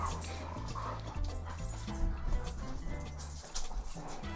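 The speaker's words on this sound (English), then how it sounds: "Please excuse the noise of my wrestling dogs." Dogs tussling nearby, with low growls, scuffling and occasional whimpers in a steady, rough-and-tumble rhythm.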